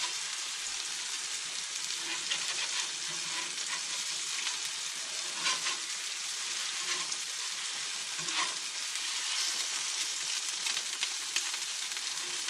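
Eggs fry in a pan after being flipped, giving a loud, continuous, dense sizzle and crackle close by, with no voices.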